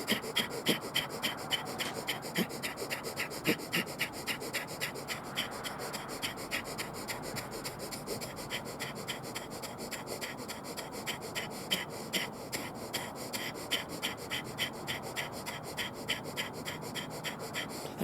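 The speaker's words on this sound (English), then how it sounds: "It's called Bellows Breath." Bellows Breath yoga exercise, rapid forceful nasal breathing with sharp rhythmic puffs driven from the diaphragm and abs, close and steady for the whole stretch with no talking.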